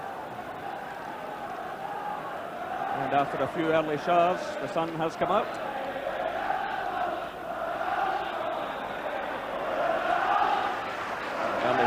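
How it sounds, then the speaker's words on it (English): Big football crowd at Tynecastle stadium in Edinburgh for a Hearts versus Celtic league match, a broad distant murmur with brief swells of shouting beneath a commentator's voice. "And a big crowd here this afternoon."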